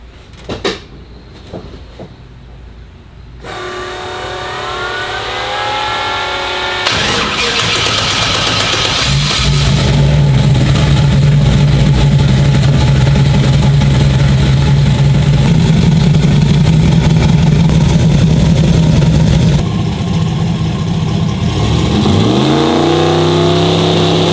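Clunks and clicks give way to a turbocharged LS V8 cranking and catching, then a loud rumbling idle with rising revs and a whooshing turbo note, close up.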